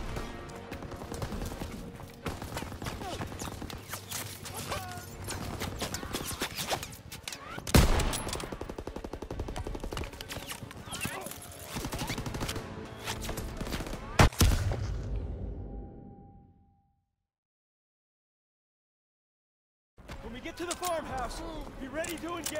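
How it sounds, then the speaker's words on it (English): Shelling and gunfire on D-Day in Call of Duty: WWII: continuous loud battle noise with rapid gunshots and heavy impacts, several sharp booms, a sudden silent gap, then the fighting resumes, with voices mixed in. "They're shelling that piece of shit!"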